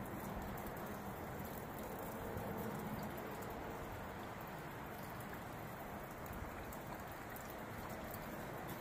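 Steady rush of water pouring and splashing out of a car tail light, a continuous broadband wash with no voices, close by.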